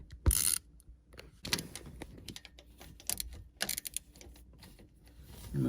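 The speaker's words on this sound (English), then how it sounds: "get the socket on there." A socket wrench ratcheting on a 9/16 bolt on an Indmar Raptor 400 engine in a 2015 Tige Z3 boat, with irregular bursts of quick metallic clicks and scrapes, close and fairly quiet, with no voices.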